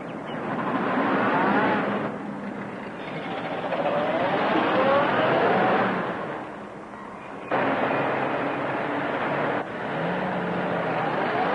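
A car from the 1930s driving off in a hurry, a rough engine rumble swelling and fading in waves with abrupt shifts in level, heard at moderate distance with no voices.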